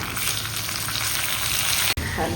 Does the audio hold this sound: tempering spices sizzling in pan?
yes